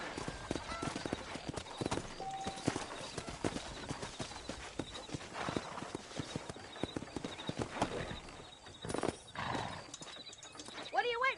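Horse hooves clip-clopping steadily in the Western video game Red Dead Redemption, a close rhythmic trot with a whinny and creaking tack, game dialogue voices in the background.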